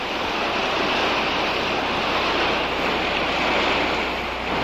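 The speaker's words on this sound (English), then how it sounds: "The water's starting to come in a little." Tide water washing in at a sandy shore, a steady broadband rush of surf with faint wind, continuous and fairly close, no voices.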